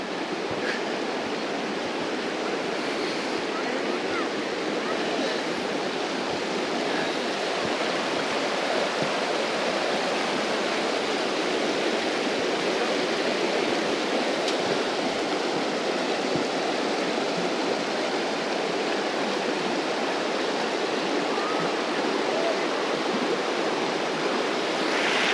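A small creek runs beside a campground shoreline lined with picnic tables, its water giving a steady, full rushing wash that holds constant and fairly loud throughout, with no voices.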